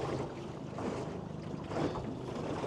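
A small 3.5 metre boat running slowly through choppy water, with a steady rushing wash of water and wind buffeting the microphone, close and continuous without talk.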